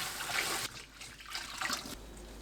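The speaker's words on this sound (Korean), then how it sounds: "바로 찬물에 헹궈주세요." Tap water runs in a sink as freshly blanched eomnamu shoots are rinsed under it, a steady close splashing with louder surges and pauses in the flow.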